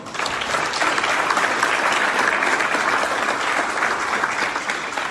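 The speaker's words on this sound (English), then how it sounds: "So y'all give him a round of applause." A crowd breaks into loud, continuous applause that holds steady throughout, dense and close with no voices rising above it.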